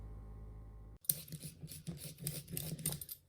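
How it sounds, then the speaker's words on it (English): Carrots scraped with a peeler in a home kitchen, a rapid series of close, crisp rasping strokes starting abruptly after a brief low hum. "I'm just peeling my carrots clean"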